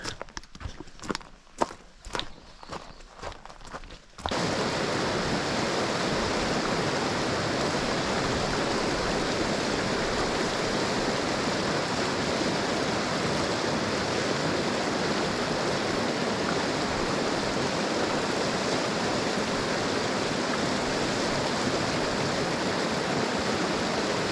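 After a few footsteps, a steady, loud rush of a flowing wilderness stream fills the rest, close and continuous.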